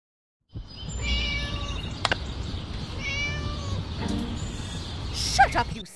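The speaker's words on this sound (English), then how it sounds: "Shut up, you silly cat!" A cartoon cat meows in the Scary Teacher 3D game, giving several drawn-out, wavering meows with a sharp click between them, over a steady background hum. A voice seems to be present in the mix.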